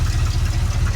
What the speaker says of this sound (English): it's loud, it's got exhaust leaks and all this other stuff,